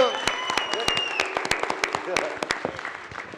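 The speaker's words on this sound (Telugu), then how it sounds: "ఒక్కసారి అందరూ భైరవ్కి గట్టి ఒక చప్పట్లు కొట్టండి మా కోసం" Scattered hand claps from an audience wrapping up a Telugu film Q&A session ring out as sharp, uneven bursts under a voice speaking throughout.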